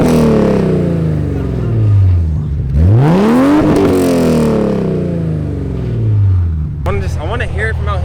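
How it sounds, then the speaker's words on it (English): A BMW E34 535 with Racing Dynamic headers revs several times, the engine note rising and falling in loud, close sweeps as the throttle is blipped, with people talking over it. "Can you try to rev it again?"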